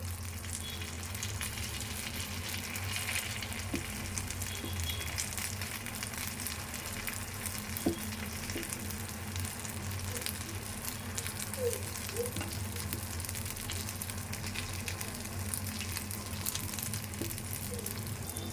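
Rice batter made from ration rice sizzles steadily in a hot pan, a loud continuous frying hiss with faint occasional clicks and no talking.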